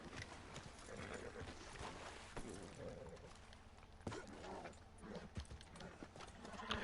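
Horse hooves clip-clop in a steady trot beneath a busy, noisy Red Dead Online soundscape during legendary animal hunting, with scattered thuds and faint background murmur.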